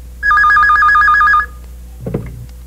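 A telephone bell rings in one clear, loud trilling burst lasting just over a second, followed by a short thud of handling noise.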